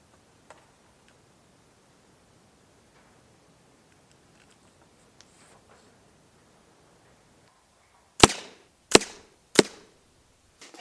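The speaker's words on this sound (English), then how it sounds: "You can cock and recock the rifle without any problem disturbing its position on the aim point." FX Leopard 600 air rifle with a side lever: three sharp, loud mechanical clacks at a steady pace near the end, likely the lever cocking and a pellet being probed into the barrel, after a quiet stretch with faint rustles.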